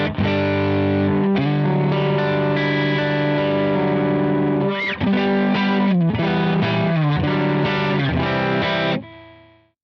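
Distorted electric guitar riffs through a Line 6 HX Stomp XL with a cut around 2 kHz taming harsh tones, dense sustained chords with chorus-like shimmer and a brief pitch bend, loud and continuous before fading out.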